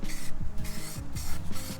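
Spray paint goes on in light, short bursts over a concrete curb: about four close hissing puffs with brief gaps between them.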